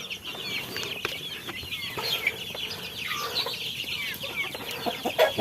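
Chickens clucking and squawking continuously close by, several birds overlapping in a busy outdoor yard with some wing flapping.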